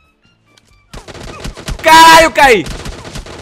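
Rapid gunfire bursts from the video game PUBG crackle after a quiet start, partly buried under a player's loud, excited shouting.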